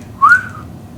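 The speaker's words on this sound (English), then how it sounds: "Give a little whistle." A single whistled note from a person, rising and then gently falling and fading over about half a second, close and clear over a quiet background, followed by a brief burst of another sound right at the end.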